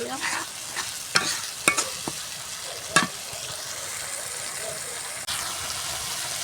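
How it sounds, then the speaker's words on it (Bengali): Chili and turmeric powder spices sauté in a pan for a village-style dried fish dish, with a constant close sizzle and several sharp spatula scrapes and taps in the first half. "আমি কিন্তু এই মরিচের গুঁড়া হলুদের গুঁড়া সব মশলা একসাথে দিয়ে লইছি আনে যে মশলাটা ভালো করে কষা"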